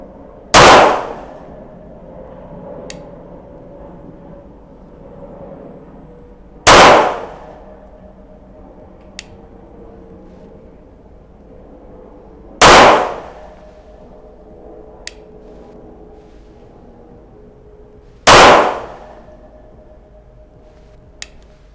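A SIG P220 pistol fires four loud, sharp shots at a 10 metre target, spaced evenly about six seconds apart, each ringing with a metallic crack, and faint ticks fall between them.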